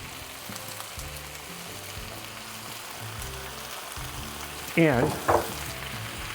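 Tallow, garlic and cannabis oil crackle and hiss steadily in a hot pan, the sizzle holding even while brief stirring scrapes and clatters rise near the end, and someone says a single word.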